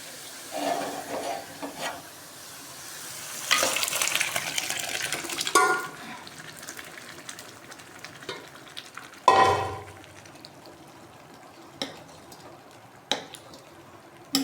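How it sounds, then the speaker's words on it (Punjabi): Chickpea lentils (chana dal) tipped into a sizzling tempering and stirred, a loud hissing burst near the middle, with scraping stir sounds and quieter sizzling around it, no voices. "ਦਾਲ ਨੂੰ ਤੜਕਾ ਲਾ ਲਿਆ ਆਪਣਾ ਪੂਰੀ ਤਰ੍ਹਾਂ ਨਾਲ ਭੁੱਜ ਗਿਆ ਕਿੰਨਾ ਸੋਹਣਾ ਕਲਰ ਆ ਗਿਆ ਬਹੁਤ ਹੀ ਸੋਹਣਾ ਕਲਰ ਆ ਗਿਆ ਤੇ ਹੁਣ ਆਪਾਂ ਇਹਦੇ ਵਿੱਚ ਦਾਲ ਪਾ ਦਾਂਗੇ"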